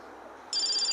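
A phone starts ringing halfway through in a home, a bright electronic ring that comes in abruptly over a low background hum.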